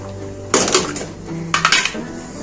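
Cooked vegetables and chicken pieces are tipped into gravy in a pan for chicken shashlik, giving two close bursts of clattering utensil-on-pan scraping and clinks, each about half a second long, with a quieter pause between them.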